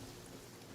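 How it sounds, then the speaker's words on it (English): Steady rain falls in a video game, a dense continuous hiss of drops with a low rumble beneath, even and unbroken throughout. "Oh, it's actively raining."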